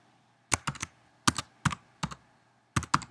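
Short bursts of keystrokes on a computer keyboard, a few quick clicks at a time separated by brief pauses, close and clear with no talking.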